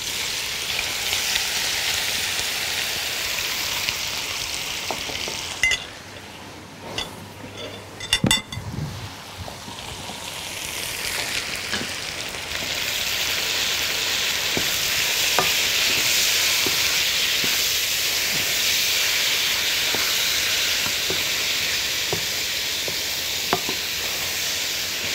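Meat sizzles and fries loudly in a pan for a stuffed mixed-vegetable dish, a dense, continuous hiss broken partway through by stirring clinks and a brief drop in the sizzle before it surges back up steadily.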